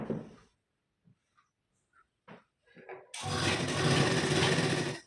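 After a few quiet taps and handling noises, a sewing machine starts stitching a blouse's V-neckline, a loud, rapid, continuous whir running close by to the end.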